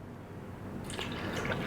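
Milk, 200 ml, poured into a blender jar over yogurt and mango for a mango lassi, a close liquid splash and trickle that starts partway in and runs steadily to the end.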